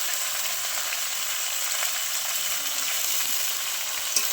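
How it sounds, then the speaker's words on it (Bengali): Greens with turmeric and salt fry in a pan, giving a dense, even sizzle that stays steady and close throughout, with faint stirring scrapes and one small clink near the end. "ভালো করে নেড়ে মিশিয়ে নেবো।"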